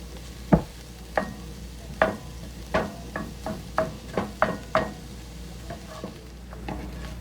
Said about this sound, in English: we're gonna let this sausage cook down and get it into pretty small pieces here